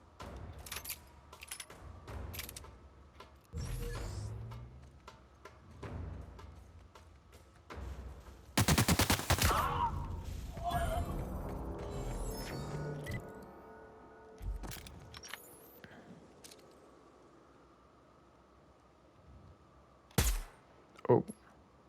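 Gunfire in the video game The Outer Worlds, scattered sharp shots and bursts with one loud sustained blast in the middle, mixed with game effects and a player talking at times.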